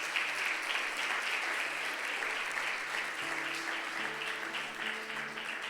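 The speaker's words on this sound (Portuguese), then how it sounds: "Aplauda o Senhor Jesus nesse momento" Audience in a church applauding, a broad continuous wash of clapping at steady volume, with a faint low hum running underneath and no speech over it.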